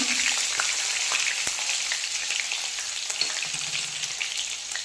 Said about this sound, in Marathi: इथे पहा तेल तापलं आहे तर ह्यामध्ये मी हिरवी मिरची लसूण